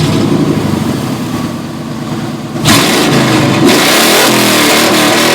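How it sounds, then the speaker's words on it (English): A 1987 Chevy 350 TBI V8 with long-tube headers and dual straight pipes, mufflers cut off, idles with a rough lope, then snaps into loud revs near the microphone, holding a raw, sustained roar. "1987 Chevy 350 TBI long tube headers, dual straight pipes."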